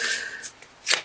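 Quick riffling bursts of a tarot card shuffle, three short flurries close to the microphone with brief pauses between.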